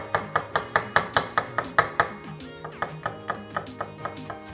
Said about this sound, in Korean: 제일 먼저 마늘을 다져줍니다.